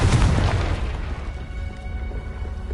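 A Confringo blasting spell explodes in Hogwarts Legacy with a loud, deep boom that hits hard at once, then rolls and rumbles away over a couple of seconds.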